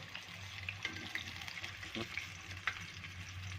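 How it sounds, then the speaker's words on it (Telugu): Chicken lollipops deep frying in oil give a soft, steady bubbling crackle with scattered small pops, fairly quiet and close, with no one talking. "బాగా ఫ్రై చేసుకోండి. డీప్ ఫ్రై చేసుకుంటేనే ఇది బాగుంటుంది."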